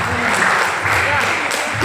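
An audience at a hotel talk session applauds in a continuous, loud, even roar of clapping that fills the short moment, with a voice over it.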